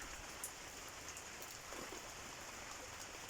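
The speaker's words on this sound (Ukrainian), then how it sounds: "пішов дощик" Light rain patters steadily and softly, a gentle continuous hiss of drops falling on surfaces, with no voices.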